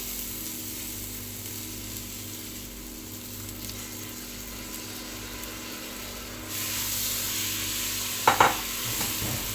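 Washed rice sautéing with onion in a pan gives a steady, soft sizzle throughout, growing brighter partway in, followed by a couple of quick stirring clatters near the end.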